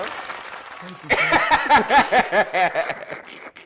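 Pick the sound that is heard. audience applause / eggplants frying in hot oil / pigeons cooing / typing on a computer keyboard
audience applause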